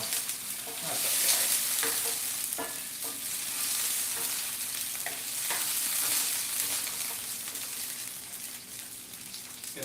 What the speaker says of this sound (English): I see why they want you to use the wok. You're going to get some splatter.